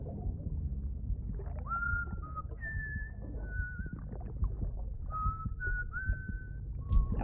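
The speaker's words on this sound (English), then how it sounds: "I wonder if it's actually him whistling." A character in the video game Death Stranding whistles a wavering, melodic tune in several drawn-out phrases over a low, steady game ambience, with no talking.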